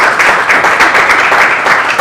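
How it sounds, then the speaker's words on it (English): Sustained audience applause at a New York Fashion Week show for designers and models, dense and steady clapping from a crowd filling the whole two seconds with no pauses. "if we can have a round of applause for all of our designers and our models."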